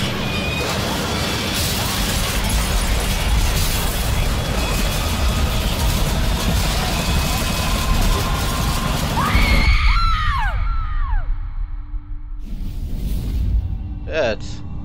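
A loud, dense roar of crashing wreckage and debris fills the scene as an aircraft crashes in the horror video game Outlast 2. It cuts off abruptly near the end, leaving sparse screams and shrill cries over quieter ambience.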